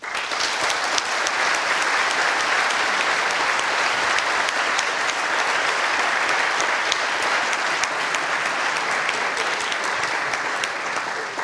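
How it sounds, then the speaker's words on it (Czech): Audience applause at a Czech presidential candidates' debate at the University of Economics in Prague (VŠE), a dense, steady clapping that stays loud and even throughout with no talk over it. "Myslím, že si to zaslouží potlesk."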